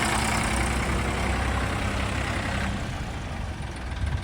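A Farmtrac 45 tractor engine idles nearby with a steady, low diesel rumble and chugging throb that stays even throughout.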